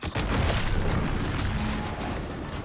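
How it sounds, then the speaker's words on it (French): A dense, sustained rumbling boom fills the space from an explosion in the video game The Outer Worlds 2, a loud low roar with crackling debris that holds steady throughout, with no voices over it. "What's that? An explosion?"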